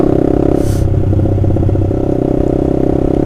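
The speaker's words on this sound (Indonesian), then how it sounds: "Dengerin nih suara knalpot. Austin Racing." A Honda CBR150R motorcycle with an Austin Racing exhaust idles and revs close by, a loud, continuous low throbbing rumble with a brief rasp partway through and no talking.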